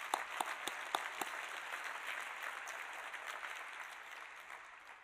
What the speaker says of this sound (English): Maybe we can give those guys a quick round of applause.